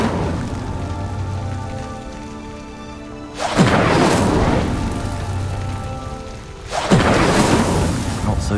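A fire spell cast twice in the wizarding video game Hogwarts Legacy: two sudden, roaring whooshes of flame, each flaring loud and then settling into a crackling rush, with a quieter, humming stretch before the first burst.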